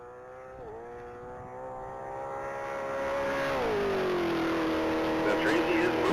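A race car accelerates down the Texas Mile straight, its engine note climbing steadily and then settling into a louder, higher tone after a shift. It starts fairly distant and grows stronger toward the end, with a commentator talking over it.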